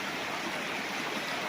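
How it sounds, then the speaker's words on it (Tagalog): A river rushes steadily right beside a farm lot in Majayjay, Laguna, giving a continuous, close, full-bodied wash of flowing water with no voices. "Yung ilog na tabi mismo ng property"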